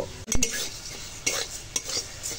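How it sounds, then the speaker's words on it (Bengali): Mung dal is dry-roasted and stirred in a hot karai with a utensil: a few sharp metallic scrapes and clinks over a soft, steady rustle of lentils shifting in the pan, close up. "এখন মুগ ডালটা শুকনো খোলায় একটু নেড়ে নেব"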